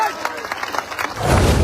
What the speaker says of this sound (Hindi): तालियां होनी चाहिए हमारे लोग